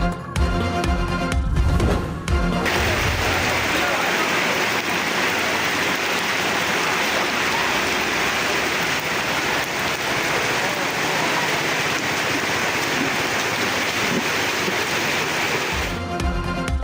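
Heavy monsoon rain pours down on flooded streets in Rawalpindi, a dense continuous hiss of rainfall and rushing water, loud and steady after a brief burst of other noise at the start.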